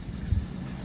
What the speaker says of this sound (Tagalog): kusog sa hangin